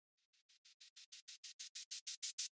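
A reversed EDM crash riser run through a Transgate gating plugin stutters in quick, regular bursts of bright cymbal noise, each pulse louder than the last as it builds toward the end.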